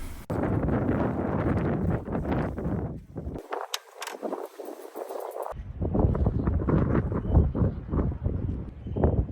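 Steady gusty wind rushes across the microphone outdoors on a pedestrian street near a seaside promenade in cold, rainy weather, with a brief lull partway through before the buffeting returns.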